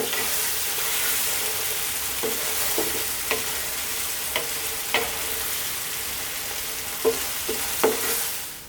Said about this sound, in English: Stirring all the time now, just for like 2 minutes, and then this is absolutely done.